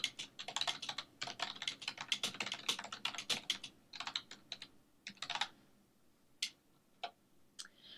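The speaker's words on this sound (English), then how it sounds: "And I'm going to type in the question." Fingers typing on a computer keyboard, quick irregular bursts of close, crisp key clicks with brief pauses, then a few scattered single taps toward the end.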